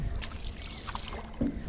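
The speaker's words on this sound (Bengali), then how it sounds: "এরা এত সুন্দর করে নৌকা চালাতে পারে" Village boys row a wooden country boat on the water near Bhanga, Faridpur: a steady outdoor wash of water and wind with soft paddle splashes and a brief louder knock near the end. No voices.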